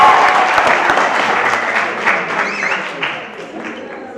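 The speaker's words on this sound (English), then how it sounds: "A round of applause for Mr. Mthogo." Audience applause at a university science debate competition, a loud, dense crowd clapping that gradually fades toward the end, with some talk mixed in.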